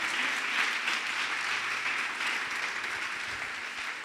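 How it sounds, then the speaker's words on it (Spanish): Church congregation at a Spanish-language discipleship service applauding, a sustained wash of many hands clapping at moderate volume, even and continuous with a slight fade toward the end. "¿Alguien le da un aplauso al Señor?"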